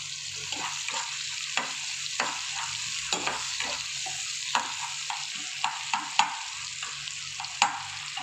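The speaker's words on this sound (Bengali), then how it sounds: "পেঁয়াজটা ভাজা হোক" Onions fry in a pan for plain pulao, a steady sizzle broken by regular scraping stirs and clinks of a spatula, close and fairly quiet, with no voices.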